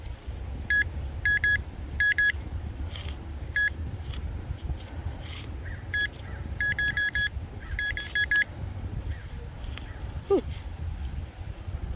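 A metal detector sweeps over a buried coin in a San Francisco park, sounding clusters of quick, bright, high beeps in short repeated bursts over low wind and outdoor rumble.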